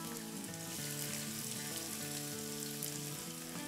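Half a cup of chopped onion fries in about two tablespoons of hot oil for an aloo naan filling, giving a loud, steady sizzle and crackle throughout, with a faint tonal hum underneath and no talking.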